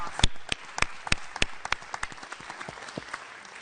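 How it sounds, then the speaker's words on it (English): A small audience claps in sparse, uneven bursts, a few distinct hands smacking loudly near the start and then thinning into scattered softer claps. "Can I get a round of applause for that?"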